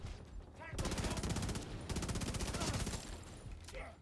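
An enemy machine gunner fires in The Division 2, two long sustained bursts of rapid, loud automatic fire separated by a brief pause, with faint ambient game sounds around them.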